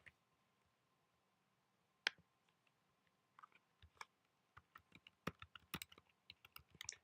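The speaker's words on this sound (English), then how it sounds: "just type terminal" Keys on a computer keyboard click in short irregular bursts, faint and close, with a quiet pause before a sharp tap and then quicker clustered typing toward the end.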